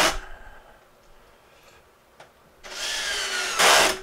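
A power drill whirs in short bursts as screws drive through a faceplate into a wooden bowl blank. A brief spin comes first, then a quiet gap and a louder, sustained run of drilling near the end.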